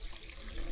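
Water runs steadily from a tap at a Buddhist temple in Cheonan, South Korea, a soft continuous splashing stream, faint and close, with no voices.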